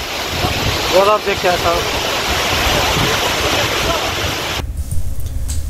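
The Octopus waterfall on the Tilicho lake trek in Nepal roars as a loud, continuous wash of falling water, buffeted by wind on the microphone, while a person talks briefly over it.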